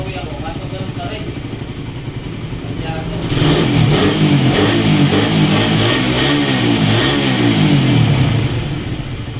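A misfiring motorcycle is taken for a test ride after a spark plug cap check. Its engine hums steadily, then revs up loudly and stays high and throbbing, with voices talking over it.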